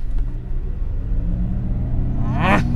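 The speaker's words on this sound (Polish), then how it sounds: "nawet taki specjalny dźwięk jest z głośników niczym właśnie w C63" Artificial engine sound played through the speakers of an electric Mercedes, styled after a C63, hums as a steady, close, low drone while the car slows gently, with a brief rising whine near the end.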